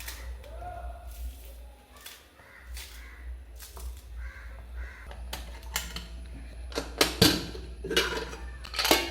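A pressure cooker is tapped to get it working, giving a series of sharp, close metallic knocks that grow louder and more frequent toward the end, with a voice talking earlier on.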